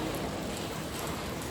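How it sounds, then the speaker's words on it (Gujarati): Steady rain falls continuously on a farm during the monsoon, an even hiss of drops with no voices. "15-20 મિનિટથી એક ધારો વરસાદ ચાલુ"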